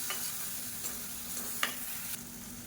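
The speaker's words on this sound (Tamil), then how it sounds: "மீடியமான ஃப்ளேமில் வதக்கிட்டு நல்லா எண்ணெய் பிரிஞ்சு வரணும்." Blended tomato sautéing on a medium flame until the oil separates gives a soft, steady sizzle, with a few quiet spoon scrapes now and then and no voices.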